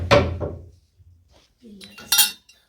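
Spoon strikes and scrapes against a bowl while onion, green chilli and coriander are tossed together; a few clattering clinks at the start, a quieter pause, then a sharp metallic clink near the end.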